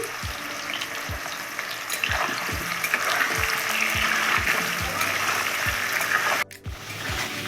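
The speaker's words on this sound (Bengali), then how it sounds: "এই কড়াইতে আমি এঁচড়ের আলু ভেজে নিচ্ছি" Potatoes for a raw jackfruit and prawn dish fry in oil in a kadai, giving a steady close sizzle with a regular series of spatula knocks against the pan and a brief gap near the end.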